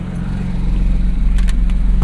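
A Porsche 911 GT3 engine idles loudly with a deep, throbbing rumble, pulsing steadily up close, with a few faint clicks on top.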